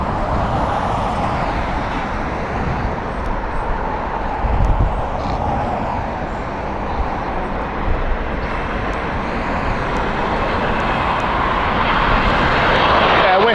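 An Airbus A380 airliner at Heathrow Airport produces a steady, broad jet engine roar that holds loud and continuous throughout, swelling slightly toward the end, with faint traffic noise underneath.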